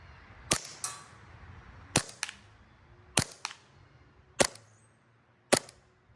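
A Novritsch SSP5 airsoft pistol fires five sharp, distinct cracks at a target range, roughly one every second, each followed by a faint secondary snap, with quiet room tone between shots.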